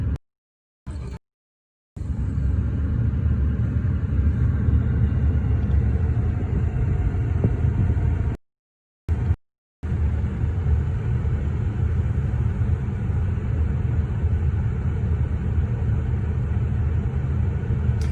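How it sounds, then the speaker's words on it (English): A 2009 Ford Crown Victoria engine idles with a steady low rumble, broken by a couple of brief silent gaps, close and even throughout. "I'm just gonna put the key in ignition and just let you hear a purr"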